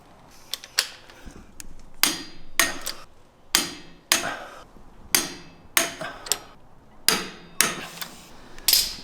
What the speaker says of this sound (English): I'm going to go back to the output shaft side and tighten up those last couple bolts.